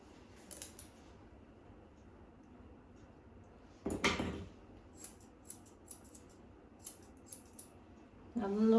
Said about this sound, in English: I love these scissors.